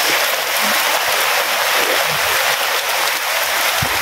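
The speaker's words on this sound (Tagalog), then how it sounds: "Oh, lakas ng ulan." Heavy rain pouring outdoors over a vegetable garden, a dense, loud, steady hiss with no break throughout.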